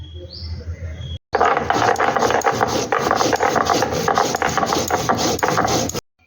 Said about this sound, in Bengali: এখন আমি এই জিরে আর আদা আর রসুন আলাদা আলাদা করে শিলে বেটে নেব।